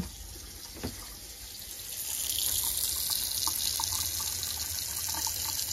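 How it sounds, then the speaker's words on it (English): Cold and hot water run steadily from a faucet in an Airstream Basecamp 20X camper while the fresh water line is flushed, starting softly and swelling into a continuous splashing rush after a couple of seconds, with no talk. "turn on the cold, turn on the hot, and make sure that we've flushed out that line"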